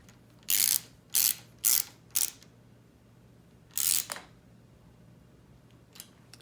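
A ratchet cranks down the guard bolt on the handlebars of a Honda ATC 200X being rebuilt: four quick bursts of clicking, then a pause and one more burst with a short follow-up, close and loud over a quiet workshop hum.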